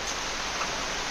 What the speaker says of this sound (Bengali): এই রে বৃষ্টি শুরু হয়ে গেছে